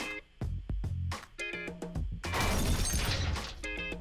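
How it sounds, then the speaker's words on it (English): A car smashing into objects in the Roblox pizza-place game: repeated crunching impacts and breaking, shattering crashes, with a dense burst of crashing debris midway, loud and close. "Just crashing the car into everything."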